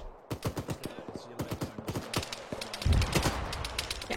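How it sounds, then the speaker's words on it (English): Rapid bursts of video game gunfire crackle in quick clusters, some loud and close, with a heavier thump near the end, while a voice talks over the shooting. "I cannot hear anybody over this gunfire"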